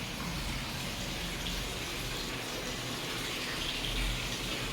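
Water pours steadily from a tap into a sink while greens are washed, giving a constant close gushing hiss with no breaks.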